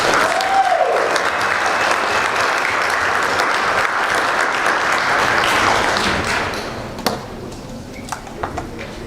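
Audience at a Snow College convocation applauding to welcome a speaker, steady loud sustained clapping from a large crowd that fades toward the end, with a few stray claps after.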